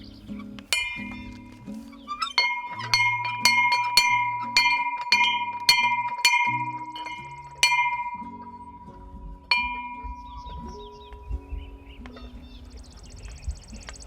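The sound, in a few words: hanging bell ringing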